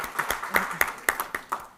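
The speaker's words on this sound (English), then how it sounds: "Yes, can we clap for that?" Small panel-discussion audience clapping in a scattered, uneven burst of separate hand claps, moderately close, with a voice briefly audible among them.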